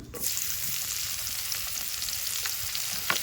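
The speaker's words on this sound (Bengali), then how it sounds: "এবার কড়াইয়ের মধ্যে দিয়ে দেবো পাঁচ ফোড়ন" Panch phoron (whole five-spice seeds) sizzling and crackling in hot oil in a wok, a steady frying hiss with small pops, close and fairly quiet.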